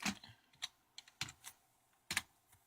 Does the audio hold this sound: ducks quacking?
no